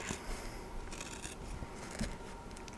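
Scissors cut around embroidered slipper pattern pieces, giving soft crisp snips and rustling fabric at close range, a few distinct cuts in quick succession.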